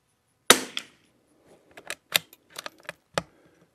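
Rifle shots from a Lithgow LA101 or CZ 455 with a Walther barrel firing Lapua CenterX ammunition, one sharp close report followed by a string of lighter clicks and bolt or mechanism sounds, no talking.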